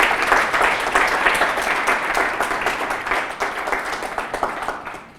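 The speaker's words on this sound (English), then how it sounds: "let's all just give her another round of applause for that" An audience at a Toronto film festival screening applauds steadily, a dense wash of clapping from many hands that holds loud and then tapers off at the end.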